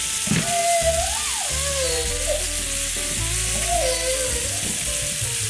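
Butter melting and sizzling in a hot pan while a steak cooks, a steady frying hiss that runs the whole time, with faint tones and clinks from the kitchen mixed in.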